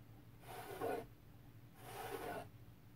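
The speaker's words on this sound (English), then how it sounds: "I'm just gonna basically scrape off what I don't like." Wet acrylic paint is scraped off a canvas in two slow, soft rasping strokes, each about half a second long, quiet and close.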